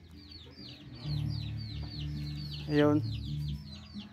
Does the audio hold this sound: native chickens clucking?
yes